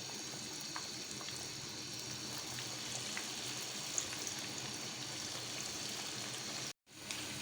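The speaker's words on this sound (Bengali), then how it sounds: "এখন আমি কাটলেটগুলি এখানে ভেজে নিব। হালকা আঁচে ভাজতে হবে, ব্রাউন কালার করে।" Cutlets frying in melted ghee over low heat, a faint, even crackle and hiss that runs steadily with a brief dropout near the end, no voices.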